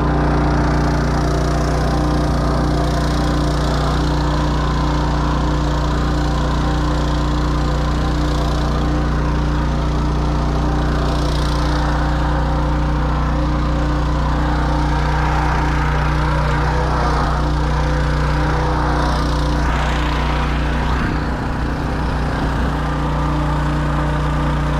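Engine-driven pump drawing water out of a relief well beside the Missouri River, a loud continuous droning hum with steady low tones and faint gurgling, unbroken throughout with no talk.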